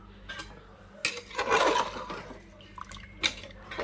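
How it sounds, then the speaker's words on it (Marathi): Water splashes and trickles into a metal pot in a short pour, about one and a half pitchers of water added to chicken for biryani, with faint clinks of cookware around it. "मी याच्यामध्ये दीड तांब्या पाणी घातलेलं आहे"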